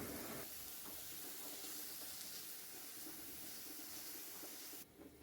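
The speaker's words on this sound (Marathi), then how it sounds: "मी कढईमध्ये ना दोन पळी तेल घेतलेलं आहे त्याच्यामध्ये आता कांदा फ्राय करून घेणार" Onion and curry leaves frying in oil in a wok give a steady hiss and sizzle that runs evenly for about five seconds, then drops off sharply near the end.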